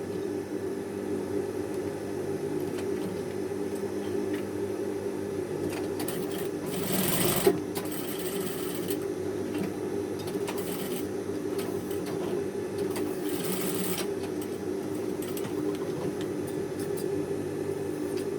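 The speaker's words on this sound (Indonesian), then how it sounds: "Selanjutnya kita jahit bagian pinggirnya." A sewing machine stitches the edge of a man's shirt cuff, a steady continuous mechanical whir running for many seconds at close range, with brief louder bursts and pauses.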